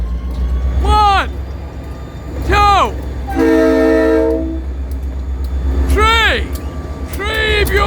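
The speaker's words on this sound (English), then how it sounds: "3 beautiful locomotives!" A freight train hauled by three locomotives rumbles past close by, sounding its horn in several loud blasts, with a long continuous roll of wheels underneath and someone talking excitedly over it.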